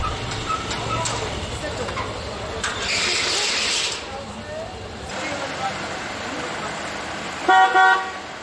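Taxi horns honk in busy street traffic in Leh, Ladakh, with a few sharp repeated toots near the end over a steady background of road noise and passing vehicles.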